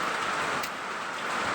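Steady rain falls at a construction site, a continuous dense hiss of drops on surfaces with no voices, unchanging across the short stretch.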